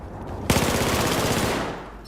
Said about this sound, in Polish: Usłyszałem jakiś strzał, ale nie wiem skąd.